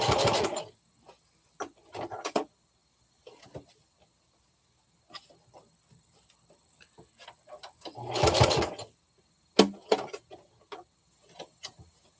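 A sewing machine stitches fabric in a home sewing session, running in a few short bursts of a couple of stitches each with quiet pauses between, the longest burst near the end.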